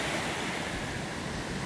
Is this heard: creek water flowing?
yes